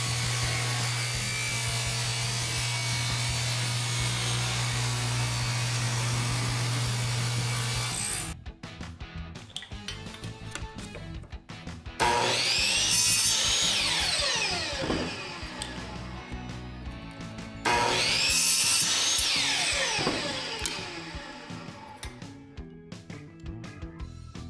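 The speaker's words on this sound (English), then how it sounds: "Here I am planing the walnut, getting it to the size I need" A planer shaves walnut boards down to size for a chess board build, a loud steady machine whine followed by repeated passes of rough, rising cutting noise with brief quieter gaps between them.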